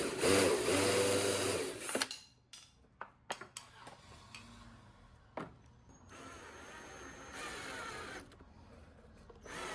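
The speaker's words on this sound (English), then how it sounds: "To attach them, I started out by making a pilot hole, and then I went back and made a countersink hole so that my screws wouldn't show." A drill bores a pilot hole into a wooden nightstand leg, a loud continuous whine for about two seconds, followed by scattered clicks and taps and a second, fainter steady run of the motor.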